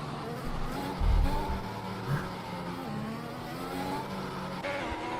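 F1 2021 race cars running on track in Spain, a steady engine drone with a brief louder surge, and voices talking faintly over the noise.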